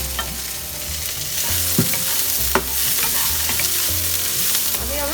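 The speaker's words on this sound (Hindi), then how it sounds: "अभी हमें और 2 मिनट फ्राई करना है शिमला मिर्च के साथ।" Red and green bell peppers stir-fry in a pan over a high flame, giving a continuous loud sizzle with scraping stirs and occasional sharp clinks of the spatula, and no talk.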